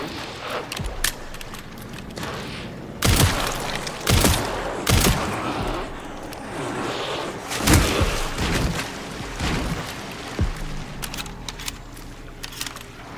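Shotgun fire from the video game Resident Evil 9 comes as several loud, sharp blasts spaced irregularly through the clip over a constant background of game ambience.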